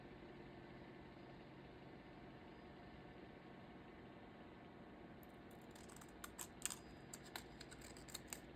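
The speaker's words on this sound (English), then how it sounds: "I have this leftover sticker piece. I'm going to trim it up a little bit." A leftover sticker piece being trimmed with scissors, heard as faint, quick snips clustered in the last few seconds over a steady low background hum. No voices.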